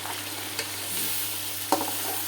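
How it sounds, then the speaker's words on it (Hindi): Chicken sizzles and fries with tomatoes and green chillies in a pot for degi biryani, a steady close hiss with a couple of sharp stirring scrapes. "चिकन जो है वो अच्छा सा यहाँ पे रोस्ट हो गया है और अब मैं इसमें डालने लगी हूँ टमाटर, हरी मिर्चें।"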